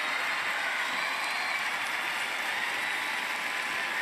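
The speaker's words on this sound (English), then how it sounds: "Another round of applause for Africa and Asia Pacific." A large crowd at the Miss Universe 2018 pageant applauds continuously, a dense, even wash of clapping with faint cheering mixed in, steady from start to finish.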